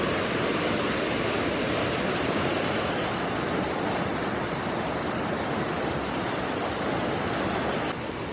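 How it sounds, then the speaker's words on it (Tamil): Floodwater from heavy rain surges down a swollen river beneath a bridge in South Korea, a steady, loud, broadband roar of rushing water that holds constant throughout with no voices. "அந்த ரெயினுக்கு ஆற்றுல வந்து வெள்ளம் பெருக்கெடுத்து ஓட ஆரம்பிச்சிருச்சு"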